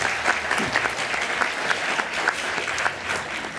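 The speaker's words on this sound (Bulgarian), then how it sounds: "поздравления и аплодисменти за Стефан Русинов" Audience applause for translator Stefan Rusinov, a steady wash of many hands clapping at moderate loudness, sustained for several seconds with little talk.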